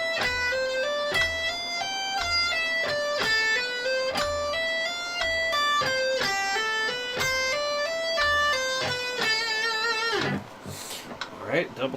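Plucked guitar passage played as a steady run of single notes, with a pull-off starting beat three, sounding clear and close for about ten seconds before ending in a brief noisy scrape.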